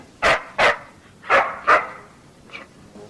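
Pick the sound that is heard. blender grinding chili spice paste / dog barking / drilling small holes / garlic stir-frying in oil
dog barking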